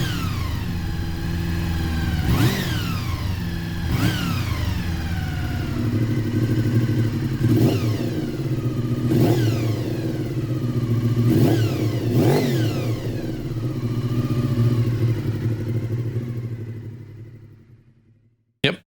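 A 1987 Honda VFR400R NC24 motorcycle revs repeatedly while standing still, comparing old and new exhausts: six sharp blips rise and fall over a steady idle before the engine cuts off near the end.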